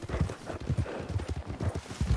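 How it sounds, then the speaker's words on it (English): A horse's hooves clip-clop at an unhurried gallop in the snowy Red Dead Redemption 2 world, a steady rhythmic beat of thuds from close by with no talk. "you can see that horse is barely at a gallop"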